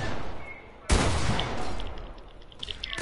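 Video game gunfire, a sudden loud burst of rapid shots that cuts in and continues as a dense, sustained barrage with scattered sharper cracks.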